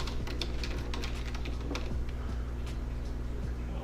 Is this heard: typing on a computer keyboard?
yes